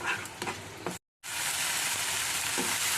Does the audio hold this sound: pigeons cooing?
no